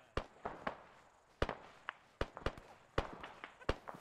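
Scattered gunshots in the military video game ArmA 3, sharp isolated cracks sounding at a distance, some single and some in quick pairs, fairly faint with quiet gaps between them.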